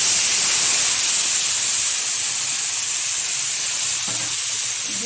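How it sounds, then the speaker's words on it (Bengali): Spice paste of ground cumin, ginger and chilli sizzling in hot oil with fried papaya and potato, a steady close hiss with a faint bubbling edge, continuous and without talk. "এখন দিয়ে দেবো এর মধ্যে বেটে রাখা মশলা"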